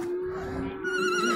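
A six-year-old horse from Chüy, used in kök-börü, whinnies at a busy horse market; a steady, loud tonal call sits over crowd murmur throughout, with higher overtones rising near the end.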